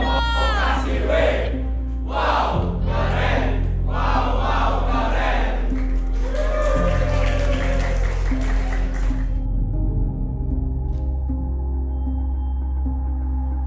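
A crowd at a student quiz competition performs a rhythmic spirit clap in several bursts, with loud shouts and cheers in unison and a steady musical backing beneath. It then gives way to a long cheering roar that settles into the music.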